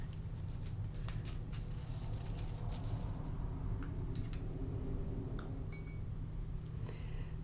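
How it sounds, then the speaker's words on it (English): A spoon clinks and taps against a cup while stirring a loose tea mixture of herbs and flowers, giving a run of light, close-up metallic ticks over a steady background hum. "I'm just going to give it a little stir"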